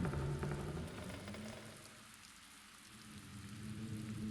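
Rain and cold wind coming through a broken window in the video game The Black Mirror, a soft continuous patter and rush that dips midway and swells again, with no voices.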